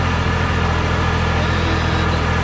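Triumph Speed Triple 1200 motorcycle engine idling, a steady, even low rumble with constant mechanical whir, close and uninterrupted.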